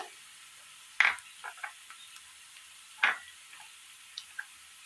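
Dried red chillies frying in oil give two sharp crackling pops about two seconds apart, followed by a few fainter ticks and sizzles in an otherwise quiet kitchen.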